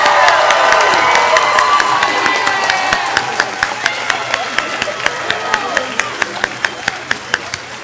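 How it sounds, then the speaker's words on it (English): Crowd at a 2021 commencement ceremony cheering and applauding the graduating class, loud shouts and whoops at first, thinning into scattered, sharper individual claps toward the end. "Can we have another round of applause for the class of 2021?"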